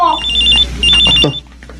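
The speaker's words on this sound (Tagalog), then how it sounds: "May nagre-ring na cellphone." A cellphone rings in a home with two bright, trilling bursts of its ringtone, close and loud, with a low steady hum underneath.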